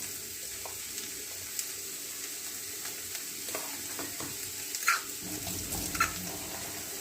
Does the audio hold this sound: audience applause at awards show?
no